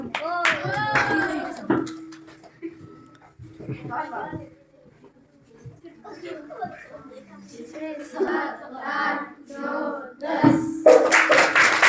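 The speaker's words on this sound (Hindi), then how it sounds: "इनके लिए जोरदार तालियां" Applause at a farewell event at a government middle school in Panjla. Children talk and call out first, then a loud burst of clapping breaks out near the end.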